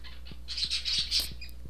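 A bird in the Stardew Valley video game screeching in quick, shrill chirps and squawks over soft low patter, close and fairly loud for under two seconds.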